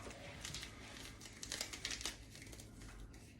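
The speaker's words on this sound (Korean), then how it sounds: "이게 또 이렇게 뜯어도 안 나오는구나" A powdered creamer packet from a US military MRE crinkles and rips in soft, close bursts, the plastic rustling quietly throughout.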